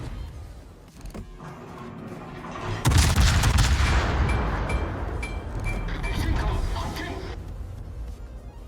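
Ship guns in the naval game World of Warships fire in a dense burst of booming salvos, loudest midway and fading toward the end, over a low rumble of in-game engine and sea noise.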